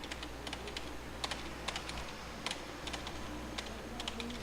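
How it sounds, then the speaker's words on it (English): Keys clack on a computer keyboard in a practiced rhythmic pattern while playing along with the rhythm game A Dance of Fire and Ice, soft and quiet over a low steady background hum. "if you listen to my keyboard, I start doing this"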